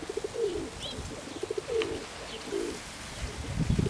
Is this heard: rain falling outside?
no